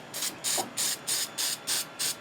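3M Super 77 spray adhesive is sprayed onto screens for a full-size Alien flamethrower prop, heard as seven short, even hissing bursts in a steady rhythm, close and fairly loud, with brief gaps between them.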